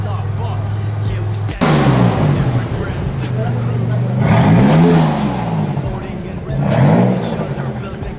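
A Datsun 280Z Fairlady Z idles, then its engine is blipped in a sharp rev that settles, followed by two further rising-and-falling revs, loud and close, with voices talking over it.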